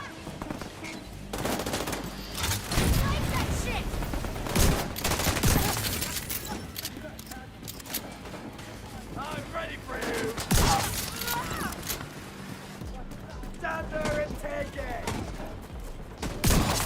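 An enemy turret in The Division 2 Battle for Brooklyn fires repeated rattling bursts of automatic gunfire at the player, mixed with other in-game combat noise and a faint voice.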